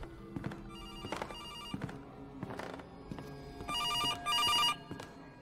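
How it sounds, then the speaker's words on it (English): A telephone rings within the Case: Animatronics horror video game, its bell-like trills coming in repeated bursts over a dark, droning ambient background, loudest toward the end. "I hear a phone."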